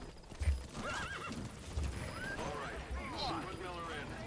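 A horse in Metal Gear Solid V gives a loud whinny and clip-clops its hooves, with the neigh rising and falling over about three seconds and heavy hoof thumps near the start, set in busy game sound.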